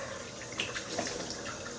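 Water runs and splashes steadily while a face is washed at a sink after a safety-razor shave, a close, continuous wash with brief louder splashes and no talking.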